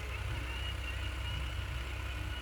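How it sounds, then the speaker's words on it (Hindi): Farm tractor engine running steadily, a continuous low throbbing drone with a faint higher hum, constant and fairly near with no talk over it. "ये हमारा ट्रैक्टर चल रहे हैं"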